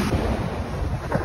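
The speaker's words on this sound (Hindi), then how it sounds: "जितनी ज़्यादा लहरें हैं उतनी उतना ज़्यादा पानी का मज़ा आता" Ocean waves wash in at Kite Beach in Dubai, a rough, continuous rush of surf mixed with wind buffeting the microphone, close and fairly loud.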